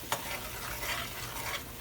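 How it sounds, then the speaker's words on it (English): Green beans are stir-fried with sesame oil in a hot pan, sizzling steadily and close up while a utensil tosses and scrapes them in a brief, busy mix. "And you want to give it a good mix."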